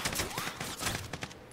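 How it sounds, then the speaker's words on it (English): Rapid gunfire in an online multiplayer shooter, a dense burst of repeated sharp shots in quick succession, loud and continuous for about a second and a half, with no speech over it. "how are they still fucking shooting me?"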